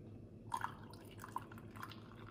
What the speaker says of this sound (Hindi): और इसमें हम डाल लेंगे बॉइल्ड वाटर।